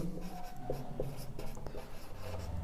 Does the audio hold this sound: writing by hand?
yes